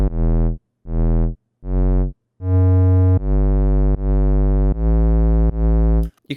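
Serum synth 808 bass played as separate notes, first short pulses with gaps, then sustained tones that swell and pump under volume automation, loud and alone.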